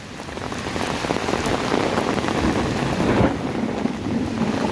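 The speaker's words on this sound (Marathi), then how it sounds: "हे पाऊस पहा म्हणून रस्त्यावरती किती पाणी साचलेलं आहे ते पहा" Heavy first monsoon rain pours in a dense, steady roar, loud and continuous throughout, with water hitting surfaces close by and no voices.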